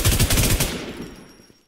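Gunfire in the video game WarZ: a loud, rapid automatic burst lasting under a second, then a fading echo tail.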